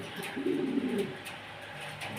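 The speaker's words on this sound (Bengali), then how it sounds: "একজোড়া জার্মানি বিউটি হোমা কবুতর রয়েছে" A pair of German Beauty Homer pigeons gives one soft, low, throaty coo close by, lasting about half a second over faint background hiss.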